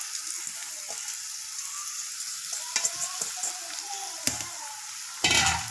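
Crumbled roti hits a pan of hot oil tempering and sizzles steadily as it is stirred in, with soft scraping and a few sharper clinks and rustles near the end, close and moderately quiet.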